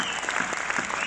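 A cinema audience at a film premiere in Orléans gives Yolande Moreau a dense, sustained round of applause. The clapping stays loud and even from start to finish, with a faint murmur of the crowd underneath.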